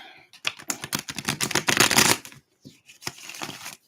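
A tarot deck is shuffled by hand, close and crisp: a dense run of riffling card flicks builds to a loud burst, breaks off briefly, then a shorter second shuffle follows, with no voices.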